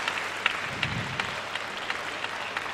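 Crowd applause and cheering at a table tennis final of the ITTF Africa Cup, a sustained patter of clapping in a large hall with a few sharp claps standing out, sounding moderately near.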